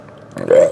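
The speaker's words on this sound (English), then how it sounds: "Oh, that was a burp." A burp after eating Taco Bell and Del Taco bean burritos, a single low throaty belch swelling loud near the end, close up, after a short spoken word.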